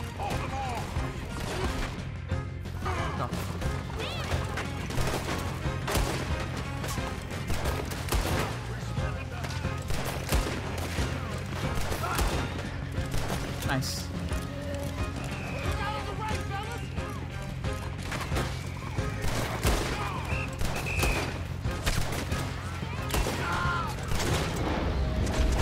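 A dense, unbroken barrage of shots rings out in a Red Dead Redemption 2 shootout, with rapid overlapping cracks and booms that stay loud and close throughout. Excited voices talk over the gunfire.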